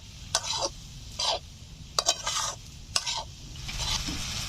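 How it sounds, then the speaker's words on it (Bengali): Pasta stirred with chowmein masala in a frying pan, repeated scraping strokes of a spatula about once a second over a soft steady sizzle. "এখন একটু নেড়েচেড়ে মিশিয়ে নিচ্ছি।"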